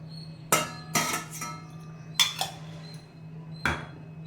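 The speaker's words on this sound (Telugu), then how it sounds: "ఫస్ట్ గ్యాస్ వెలిగించుకొని ఒక పాత్ర పెట్టుకొని దాంట్లో కొంచెం నెయ్యి వేసుకున్నాను" A metal cooking pot clanks against the grate of a gas stove: several sharp metallic knocks and clinks spaced irregularly, close and clear over a steady low hum, with no voices.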